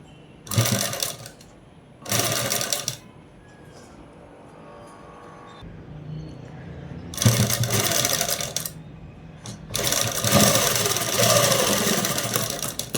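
A sewing machine stitching a blouse design runs in loud bursts of rapid whirring, starting and stopping several times, with quiet pauses between runs.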